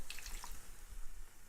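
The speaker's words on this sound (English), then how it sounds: "And add some more water." Water is poured into a hot cooking pan during oil-free cooking. It sizzles and splashes briefly at first, then fades into a soft, steady hiss.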